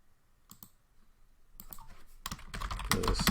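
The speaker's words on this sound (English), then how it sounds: "now we're going to type a sentence" A sentence typed on a computer keyboard while working in a Linux command-line text editor: a few isolated key clicks, then a quickening run of close, crisp keystrokes growing louder toward the end.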